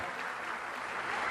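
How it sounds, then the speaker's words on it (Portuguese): An audience applauding at a celebration for the patron saint São José on 19 March, a faint, steady wash of clapping from a distance. "pedir uma forte salva de palmas"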